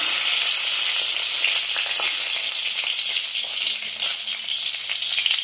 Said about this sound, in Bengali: এখন ওই তেলের মধ্যেই আমি ফোড়ন দিচ্ছি তেজপাতা একটা শুকনো মরিচ